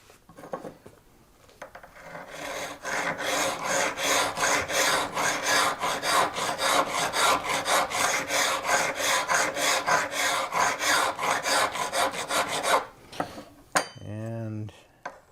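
A card scraper blade for a card table being sharpened with a file, rapid rhythmic rasping strokes for about ten seconds, loud and close, then stopping, followed by a short ringing metallic tone.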